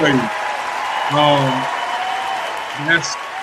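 Applause on a radio interview show forms a steady wash in the background while short bursts of talk break in over it.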